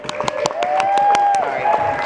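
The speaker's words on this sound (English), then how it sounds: "Sorry, I had to clap." Scattered clapping from a few people at a beach wedding reception speech, quick uneven claps close by, overlapping a sustained tonal sound and brief voices.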